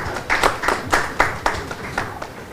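Audience at a conference panel session claps in evenly spaced, distinct hand claps, roughly eight sharp beats in a row, fairly close and tapering off toward the end.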